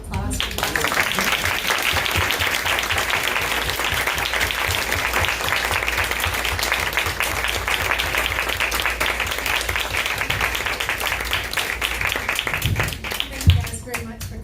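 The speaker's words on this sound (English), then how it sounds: "I want to ask for a round of applause for that." A large crowd applauds steadily for about fourteen seconds, dense and sustained clapping with cheering voices mixed in, ending with a brief louder burst.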